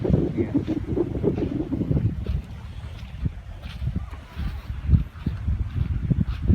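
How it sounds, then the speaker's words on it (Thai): Morning wind sweeps over a reservoir beside a dam with lapping water waves, buffeting the microphone in a steady loud rush with uneven gusts throughout. "มันก็จะมีลมนะครับผม ในตอนเช้าแล้วก็ทำให้มี คลื่นน้ำนะครับผม คล้าย ๆ ทะเลนะฮะ"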